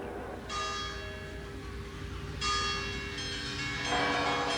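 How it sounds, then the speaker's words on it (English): Several church bells ring out across a town at the water's edge in Italy in 1985, in overlapping peals, with fresh strikes entering every couple of seconds and the tones lingering across a wide, open space. "And all the bells of the town rang out."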